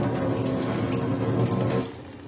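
Water poured from a vessel at a meal of chhatu and muri, a steady, fairly loud splashing stream that runs for about two seconds and then tapers off.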